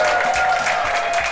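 Studio audience applauding a game show contestant as she is introduced, a dense steady wash of clapping filling the whole moment without a break.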